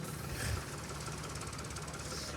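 Tractors pulling trolleys carry relief supplies into a flood-hit area, with an engine idling in a steady, close, rough drone that holds at an even level throughout.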